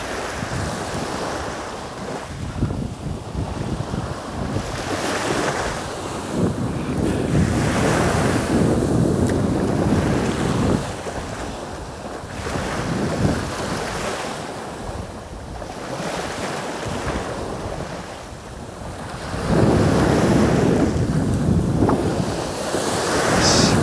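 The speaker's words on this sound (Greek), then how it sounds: "Σηκώνει αέρα σιγά σιγά, σηκώνει κύματα." Sea waves surge and wash in repeated swells at a river mouth as the wind picks up, with heavy gusting wind noise buffeting the microphone, loud and continuous with no talking.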